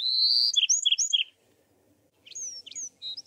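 A Bewick's wren sings in the scrubby hills of Juniper Hills near Big Rock Creek, giving bright, high trills and chirps. Two clear phrases are separated by a short silence.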